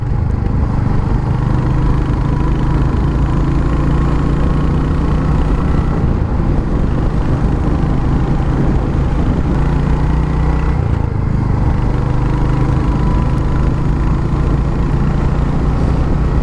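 Royal Enfield Hunter 350 single-cylinder engine running loud and close, a steady droning rumble that swells slightly twice as the throttle is opened, with constant wind and road noise throughout.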